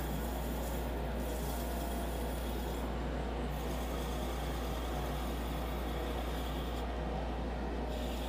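Wood is sanded against abrasive paper as it spins on a lathe, a steady close rubbing hiss over a constant low hum from a running dust collector, with no talk.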